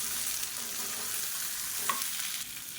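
Chopped green beans sautéing in oil in a pan give off a steady, close hiss of frying with faint stirring, continuous and even throughout with no voices.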